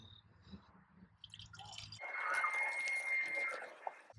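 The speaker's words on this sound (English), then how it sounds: "dump this in here and start filling her up." Mopar antifreeze coolant pours into the cooling system of a Ram Cummins 6.7L diesel truck, with soft drips at first and then a steady, close splashing stream and gurgle lasting a couple of seconds.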